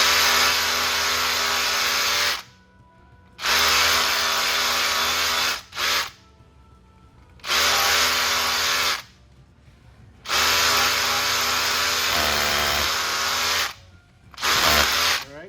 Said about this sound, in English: Turn your drill in a circular motion to make it wider.